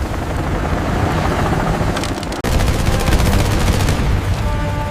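An Apache attack helicopter fires its weapons during a simulated battle against a Napoleonic-era army: loud, continuous rapid-fire crackle over a steady rotor-like roar, with a brief dip before the barrage resumes at full force.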